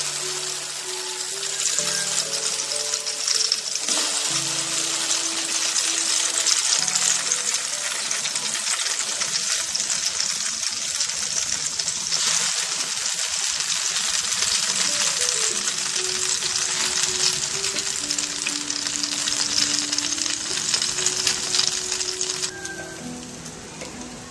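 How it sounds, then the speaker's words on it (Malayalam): Water-soaked bread slices fry in a hot pan, giving a steady, close sizzle and crackle that runs throughout, with a few faint clinks and no speech. "ഇനി നമുക്ക് നേരെ നമ്മുടെ പാനിലേക്ക് ഇട്ട് കൊടുക്കാം"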